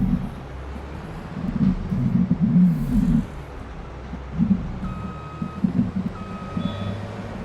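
In a farming video game, a harvester's reversing alarm gives several evenly spaced electronic beeps over a low engine rumble, with a few short gaps between the bursts.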